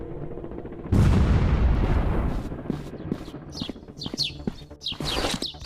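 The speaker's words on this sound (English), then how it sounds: "Sorry! Grenade, get down!" A grenade blast in a counter-terrorist first-person shooter game, a sudden loud, close boom with a long, rumbling decay, followed by scattered sharp clicks and chirping bird-like effects.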